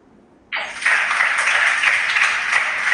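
A school quiz competition audience breaks into sudden applause that swells after half a second into a steady, dense wash of clapping that holds to the end, with no talk.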